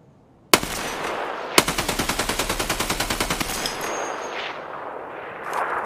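Gunfire in Escape from Tarkov starts with a sharp single crack, then a steady fully automatic burst of about twenty evenly spaced loud shots, followed by fading echoes and quieter movement.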